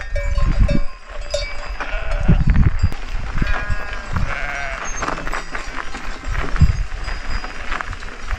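A flock of sheep bleats at close range on a mountain mountain-bike trail in La Plagne, with overlapping calls, wind rumble and scattered clanking over several seconds.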